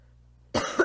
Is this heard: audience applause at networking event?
no